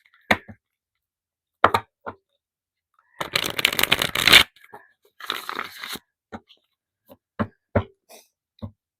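A deck of tarot cards is shuffled close by in two brisk, rustling bursts, framed by scattered soft taps and clicks of cards being handled.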